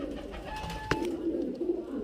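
Two young highflyer pigeons from the same pair coo quietly in low throaty murmurs, joined by a short thin whistle and a sharp click.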